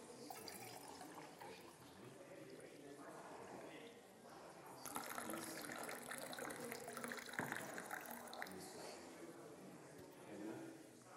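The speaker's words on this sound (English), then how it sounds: "we poured the water into Eureka can." Water pours and splashes into a Eureka can in a laboratory, a continuous gushing that swells louder partway through, with faint background noise.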